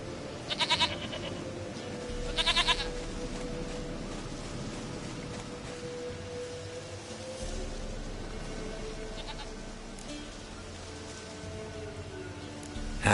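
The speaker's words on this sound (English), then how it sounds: "Goat of mine, dearest, sweetest goat." A goat in The Witcher 3 bleats twice in quick, loud bursts, then more faintly later, over a low steady game ambience with no talking.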